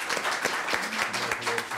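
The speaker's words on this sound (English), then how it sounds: "He really deserves a round of applause." Audience applause at an academic achievement awards ceremony, a steady wash of many hands clapping at moderate level with some voices faintly underneath.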